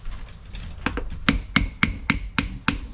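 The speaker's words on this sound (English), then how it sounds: "you just take a hammer and you hit it on the edge right here and walk it around" A hammer lightly taps around the edge of a differential cover on a welded-diff Chrysler 300 drift car, loosening it: about eight sharp metallic knocks at a steady, close pace, rising toward the end.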